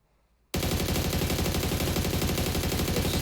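An AUG rifle with no grip fires in PUBG, a sudden burst of rapid full-auto shots that begins after a short silence and keeps going as a loud, dense, evenly spaced rattle until the end.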